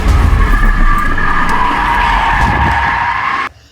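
BMW F10 tires skidding while driven hard, a loud sustained screech with engine roar underneath that holds for over three seconds before cutting off abruptly.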